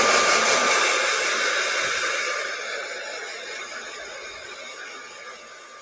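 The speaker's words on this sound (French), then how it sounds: "je sors le sèche-cheveux" A hair dryer drying paint on an old mirror blows with a steady, close, hissing roar that gradually softens slightly as it continues.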